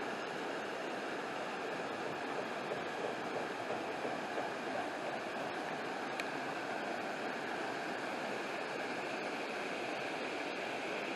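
Steady roar of rushing water from Anna Ruby Falls near Helen, Georgia, heard from a deck, a dense continuous wash of sound with no pauses and no voices.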